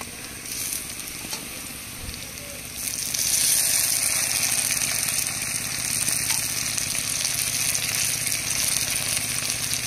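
Ginger-garlic paste, chili paste and cumin-coriander paste added to browned onions in a pan for a taro root and fish curry, sizzling steadily up close. The sizzle grows louder partway through, and no one talks.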